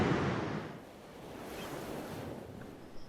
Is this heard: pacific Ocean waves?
yes